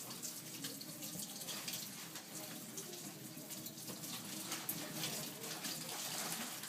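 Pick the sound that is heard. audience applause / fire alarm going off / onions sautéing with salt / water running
water running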